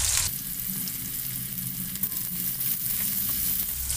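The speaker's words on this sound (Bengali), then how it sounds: "এবার পেঁয়াজটাকে আমি বেরেস্তা বানিয়ে নেব।" Thinly sliced onions fry in hot oil for birista, the crisp fried onions for a Hyderabadi chicken biryani, giving a steady, close sizzle that runs unbroken with no talking.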